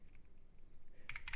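Soft key clacks from a Keychron Q15 Max ortholinear keyboard sound quiet and close, then pick up into a quicker, louder burst of keystrokes near the end.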